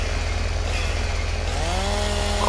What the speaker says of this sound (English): My chainsaw is having difficulties today.